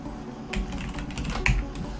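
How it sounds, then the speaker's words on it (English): Keys clatter on a computer keyboard while someone codes in the VS Code editor, giving a few soft, close clicks and a sharper tap near the middle over a steady low room hum. "I'm having trouble typing down there."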